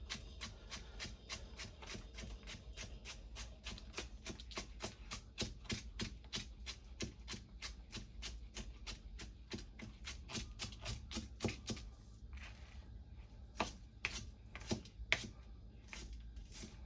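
A knife roughly chops vegetables on a cutting board, the close, crisp strokes falling in a rapid, steady rhythm that turns a little sparser and more irregular near the end, with no one talking.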